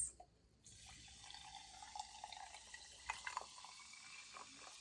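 Club soda pours over ice, a soft steady fizzing rush with small clinks and drips. It is faint and close, with no talk.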